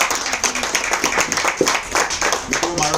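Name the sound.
audience clapping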